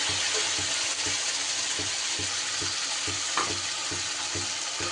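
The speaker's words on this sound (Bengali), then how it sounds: "এইবার এর ওপরে দিয়ে দেব আমি পেস্ট করে নেওয়া মশলাটা।" Spice paste dropped into hot oil and frying, a loud, close, steady sizzle with a regular rhythmic scraping of stirring beneath it.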